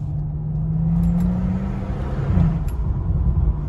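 Tuned BMW 435i with all-wheel drive and a 400+ hp stage 2 tune accelerating hard with wheel spin, heard from inside as a steady, loud low engine drone with a rising tone and brief shifts.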